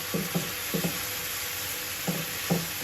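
Wood apple pulp is stirred in a pan for pickle, a soft, quiet sizzle broken by short scraping strokes in small bursts, close by.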